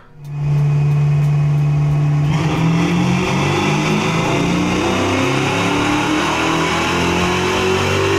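A V8 in a car strapped to a dyno, fitted with 11R heads and a stage 2 cam, roars up from idle into a loud sustained pull, its pitch climbing steadily as the revs build.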